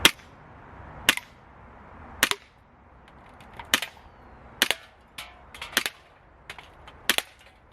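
Repeated gunshots fired at targets during aim practice, sharp cracks at irregular intervals roughly every second, loud and fairly close, with faint ringing after each and no talk.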